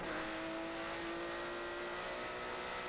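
GT1 race cars roar around the Mugello circuit in a racing video game, one steady droning engine note with a faint whine, loud and unbroken throughout.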